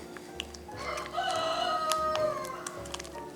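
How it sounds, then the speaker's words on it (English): A pet rooster crows nearby indoors-adjacent, a drawn-out cock-a-doodle-doo rising and falling over a couple of seconds amid faint household background noise. "we all heard the crow, we all like it"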